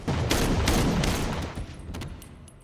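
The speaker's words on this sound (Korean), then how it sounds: "그때 어디선가 나타난 조이가 괴한을 총으로 쏴" Gunfire in a crime-thriller film scene as a masked intruder is shot, a loud burst of several sharp, rapid shots fading into a quieter tail, with no talk.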